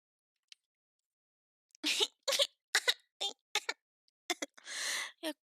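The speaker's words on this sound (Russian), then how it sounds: "Я кашляю." A person coughs in several short, sharp bursts after a quiet pause, close to the microphone in a quiet room, ending with a longer breathy cough.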